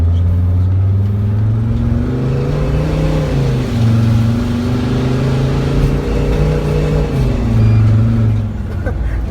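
A turbocharged Mercedes Sprinter van with its muffler cut off accelerating up a hill, a loud droning engine note rising and falling through the gears close to the microphone, with a voice speaking briefly over it.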